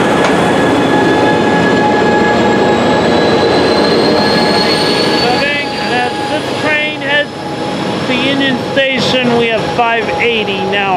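A train rolls through a station at Fullerton, its wheels squealing in high wavering tones over a loud steady rumble, with people talking nearby.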